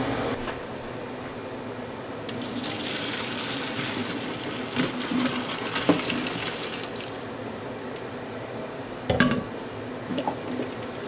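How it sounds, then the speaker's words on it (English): Cooked whole wheat pasta is drained from a pot taken off the burner, giving a steady soft gush of pouring water with a few clanks of the pot, close by. "So I'm going to take it off the burner, and we're going to go ahead and drain this."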